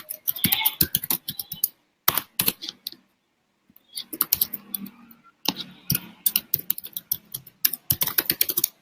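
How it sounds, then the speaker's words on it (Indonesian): Computer keyboard typing in quick irregular bursts of clicking keystrokes, close and fairly loud, with short pauses between runs and no talking. "saya lagi ngetik nih"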